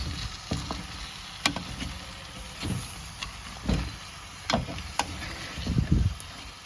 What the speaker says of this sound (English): Hold the pot and get it a good mix.